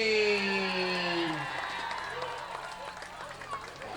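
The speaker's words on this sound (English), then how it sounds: "let's have another big, huge round of applause for the New Hartford Wolverine A" Crowd applause and cheering at a New Hartford Wolverine A Team youth football game, swelling after an announcer's amplified voice fades, with broad clapping noise carrying on steadily to the end.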